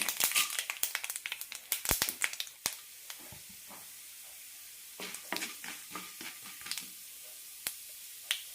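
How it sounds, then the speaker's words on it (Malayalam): Mustard seeds spluttering in a tablespoon of hot oil for rice upma, a dense burst of sharp crackling pops in the first three seconds thinning to scattered isolated snaps over a soft background sizzle. "കടുക് പൊട്ടാൻ തുടങ്ങിയിട്ടുണ്ട്"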